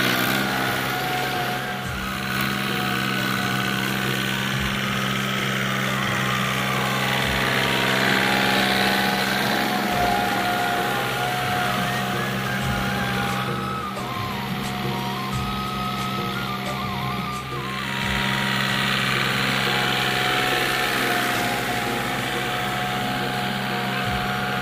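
A farm tractor pulling a rotavator through a field for rabi paddy sowing drones loudly and continuously, a steady engine hum with churning mechanical clatter that swells and eases slightly as it moves, with no talk.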